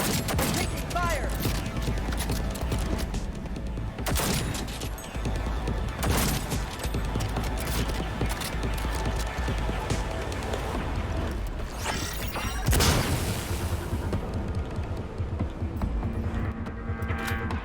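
Gunfire during combat in Cyberpunk 2077, dense bursts of shots and impacts over a thick game soundtrack and mechanical clatter, loud and continuous with a few sharper booms.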